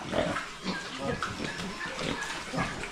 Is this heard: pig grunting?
yes